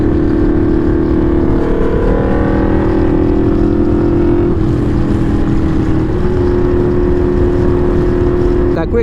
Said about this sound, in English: I mean, it's super loud. This aftermarket exhaust, I would definitely want to throw in some earplugs.